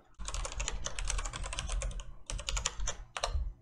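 Typing on a computer keyboard at a command line, a rapid run of close, crisp key clicks with a short pause before two more brief bursts, no talking.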